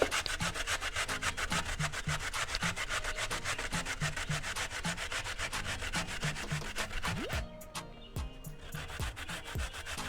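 Fresh coconut is rubbed against a hand grater in quick, steady rasping strokes, loud and close, the rhythm stopping briefly before a few final scrapes.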